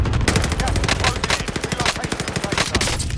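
Rapid automatic gunfire rattles nonstop in Call of Duty: Modern Warfare, dense and loud bursts close by with a faint voice underneath.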